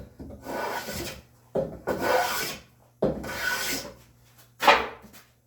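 Hand plane shaving a walnut board, four close rasping strokes of about a second each separated by short pauses, the last stroke shorter and sharper, with no talk.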